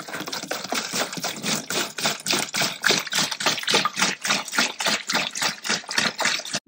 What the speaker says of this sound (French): remplir le seau.